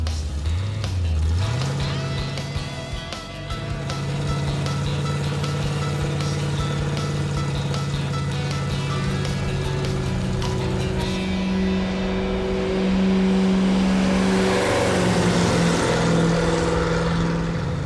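Supercharged B-body Chevy Impala cruising on a road, heard from inside as a steady deep engine drone with whine and rising revs, loud and continuous.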